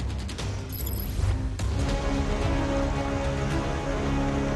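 Heavy monsoon rain in Mumbai, loud and steady, with a broad wash of rainfall hitting surfaces and a low rumble underneath, continuous throughout.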